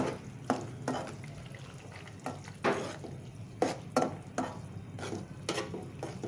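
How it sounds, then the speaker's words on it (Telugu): Eggs being stirred and broken into small pieces in a frying pan for egg rice, a spatula scraping and tapping the pan in irregular strokes over a soft, steady sizzle, close and fairly quiet. "పీసులు పీసులుగా కావాలి కదా అందుకని కదిలిస్తున్నాను"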